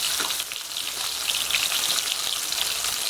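Diced tomato frying with half a spoon of black cumin seeds and a pinch of salt in a pan gives a steady, close, bright sizzle with no talking.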